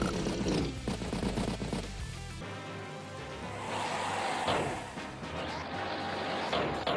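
Rapid bursts of gunfire and crashing explosion effects from the Advance Wars game as a tank destroys a recon unit, loud and dense throughout with no talking.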